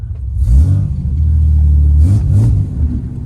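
Ford Falcon E series car revving its engine close by, a deep loud throaty roar that climbs, holds steady, then blips twice more before settling, with no talking.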